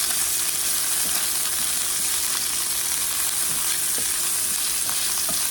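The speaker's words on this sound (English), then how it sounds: "Now we're gonna stir this around." Celery stir-frying in a frying pan for beef with broccoli, a loud continuous sizzle with faint spatula scrapes scattered throughout, close and without any talking.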